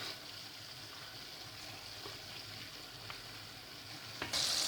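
Steady sizzling of minced meat and chopped peppers sautéing together in a pan, a constant hiss with faint stirring clicks, ending in a brief louder burst.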